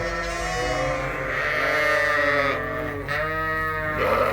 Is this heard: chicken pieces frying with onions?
no